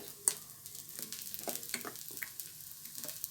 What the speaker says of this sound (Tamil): தோசை ஊற்றிட்டோம்